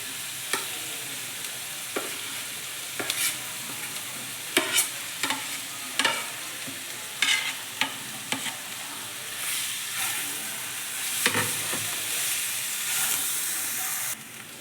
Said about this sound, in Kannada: ಈರುಳ್ಳಿ ಫ್ರೈ ಆಗ್ತಾ ಇದೆ. ಈ ಸ್ಮ್ಯಾಶ್ ಮಾಡ್ಕೊಂಡಿರೋಂಥ ಆಲೂಗಡ್ಡೆ ಹಾಕ್ಕೋಬೇಕು.